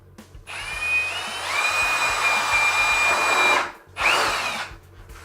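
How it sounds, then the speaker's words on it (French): A power drill boring pilot holes into wood while building a gecko rack, whining steadily at close range for about three seconds, briefly stopping, then spinning up again. "Et là, je vais préparer mes avant-trous."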